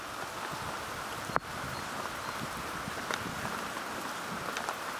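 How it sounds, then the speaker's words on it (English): Rain during a summer storm in Sapsucker Woods, a steady soft hiss of falling drops broken by one sharp tap and a few faint patters, fairly quiet with no talk. "And we're all in the rain."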